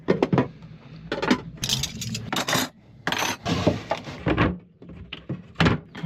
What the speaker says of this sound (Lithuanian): Visi puodai keliauja atgal į savo vietas.